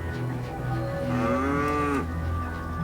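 A cow lows once, long and drawn out, from cattle grazing at the edge of a nature park in Botswana, set over a steady low rumble of background noise.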